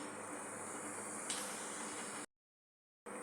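A hundred grams of peanuts dry-roasting with a little salt in a hot pan for poha chivda, giving a soft, steady, faint hiss that cuts out abruptly for a moment before returning.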